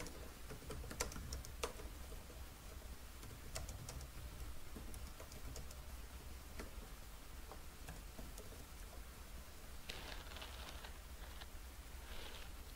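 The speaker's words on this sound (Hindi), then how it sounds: "फॉर एग्जांपल हम यहाँ पे टाइप करते हैं" Quiet typing on a computer keyboard while entering a question into a chat tool, sparse, irregular key clicks over a faint background with no talking.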